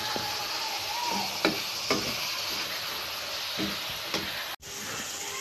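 Sweetened coconut filling for dudh puli pitha cooks in a pan over a low flame, a steady soft sizzle with periodic scrapes and taps as it is stirred, briefly cutting out near the end.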